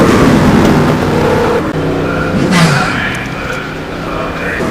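Koenigsegg race car in a GT1 racing video game: loud, steady engine drone with gear-change pitch shifts and other cars close by, under continuous commentary.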